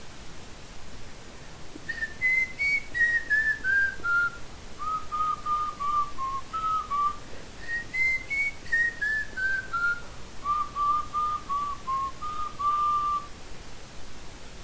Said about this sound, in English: the most popular palatal whistling style, the smiling style